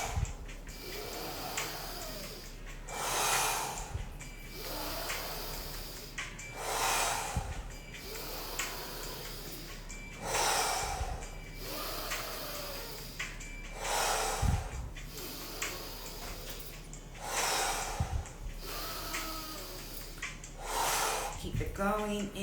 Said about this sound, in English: Exhale with a little bit of power, okay?